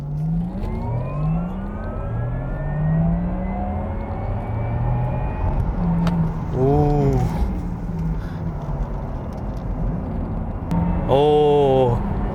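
A Porsche Taycan in Sport Plus mode accelerates hard, pitch climbing through brief gear-shift dips, loud and close with a sustained roar.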